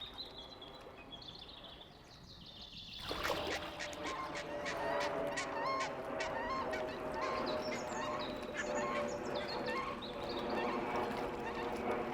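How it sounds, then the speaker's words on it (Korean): Flock of migratory geese honking at a wetland where birds from Siberia winter, a dense chorus of overlapping calls that swells suddenly after a quieter opening and continues loudly throughout, with faint surrounding ambience. "시베리아에서 날아온 철새들이 월동을 하는 장소로도 유명하다."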